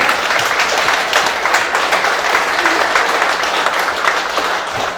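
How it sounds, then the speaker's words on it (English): Dense, steady applause from a festival audience at Chains Unchained Fest 2019, sustained without a break through the whole stretch, loud and close with a crowd wash behind it. "That, my friend, you all deserve a round of applause for that."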